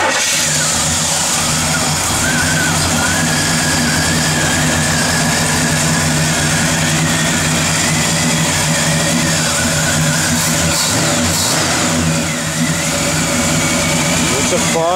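A 1967 Pontiac GTO with a mild performance cam idles loudly and close up, its engine note running steady with a slightly uneven lope and a few small swells in revs, while a voice talks over it.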